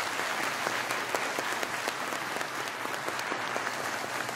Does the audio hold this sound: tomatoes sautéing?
no